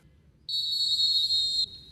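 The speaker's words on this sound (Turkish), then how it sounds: "İlk düdük sesi ve mücadele başladı." A referee's starting whistle blows at an amputee football match in Şanlıurfa's Ampute Süper Lig, one shrill, loud, steady blast lasting about a second over a faint crowd murmur.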